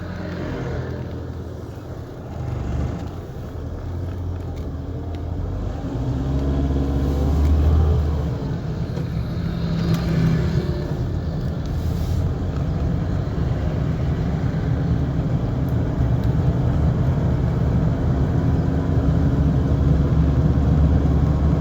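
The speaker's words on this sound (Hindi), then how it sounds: "मैं थोड़ा गाड़ी को स्लो करूँगी।" A car drives through busy Sunday traffic in Karachi, with a steady engine hum and road rumble that grows slightly louder and holds throughout, no voices heard.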